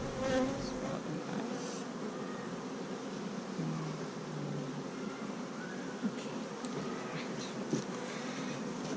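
Honey bees droning steadily around an opened hive during an inspection, a dense continuous buzz with occasional louder passes of individual bees near the listener.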